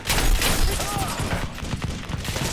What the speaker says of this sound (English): There are many enemies shooting at me.